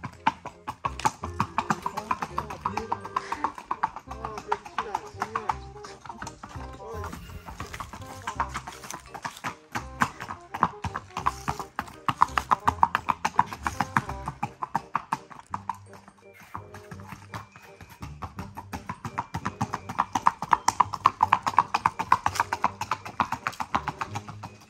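Hooves of a horse in marcha gait clip-clop steadily and close by through most of the stretch, with people talking over them.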